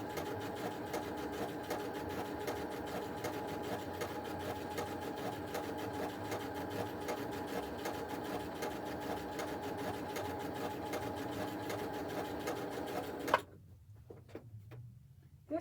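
A sewing machine running a quilt stitch, with a continuous rapid mechanical whir and ticking held steady for about thirteen seconds before stopping abruptly, followed by a few faint clicks.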